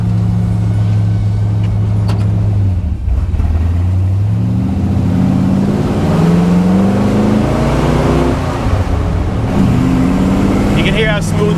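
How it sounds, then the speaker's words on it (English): A 1986 Jeep CJ7 engine runs steadily up close, a low throbbing hum with rising and falling pitch as it revs, continuous under the whole stretch. "You can hear how smooth the motor is."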